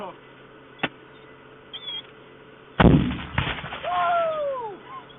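A small mortar-shell firework goes off in a backyard: a brief early pop, then one loud close blast with crackling debris. Voices exclaim and talk afterward.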